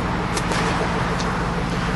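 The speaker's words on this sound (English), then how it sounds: "Great rumble to this vehicle." Steady, loud low rumble of a 2004 Cadillac Escalade engine idling outdoors in snow, a continuous broadband drone with no pauses and no talk over it.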